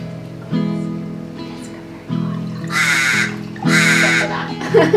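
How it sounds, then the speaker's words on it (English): A bird calls close by during an outdoor snack stop on a road trip in Shark Bay, in Australia's northwest. It gives several loud, harsh, quacking calls in bursts over a low background. "We have the bird joining us."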